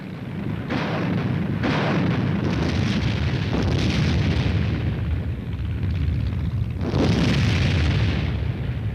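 Heavy artillery guns fire in a run of deep, rumbling booms that roll into one another, loud and reverberant, with a sharper blast near the end.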